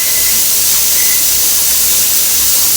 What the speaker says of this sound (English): I've got quite a bit of steam pressure coming out of the vent